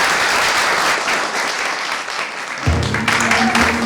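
Students in a classroom clap to welcome a guest, a loud, dense burst of many hands that stays steady and then swells slightly, with a low hum joining near the end.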